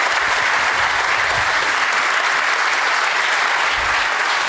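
Studio audience applause during a Dutch television interview show with guest Sigrid Kaag, a dense, loud, sustained roar of clapping that stays even from start to finish with no talking.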